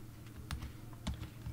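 Keys on a computer keyboard are tapped in a quick, uneven burst while an SSID is typed, a few crisp, close clicks at low volume.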